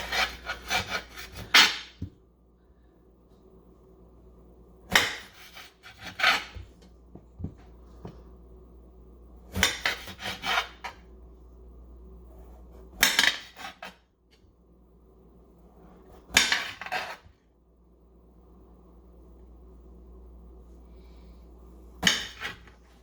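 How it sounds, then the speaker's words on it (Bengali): A knife cuts an eggplant into chunks of roughly two inches on a board, making sharp, separate chopping and slicing strokes every few seconds with quiet rubbing between them. "আমি বেগুনটা কেটে দেখাচ্ছি কিভাবে কাটতে হবে।"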